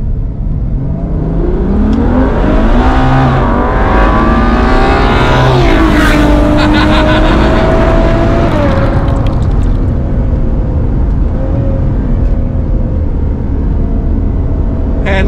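Ferrari FF V12 engine revving hard while driving, a loud continuous roar that climbs and falls in pitch through the gears with steady road and wind noise, no talk.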